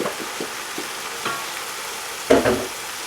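Potato slices fry with spices in a pan, a soft sizzle beneath a handful of spoon scrapes and taps, ending with one louder stirring clatter near the end; close and fairly quiet, with no talk.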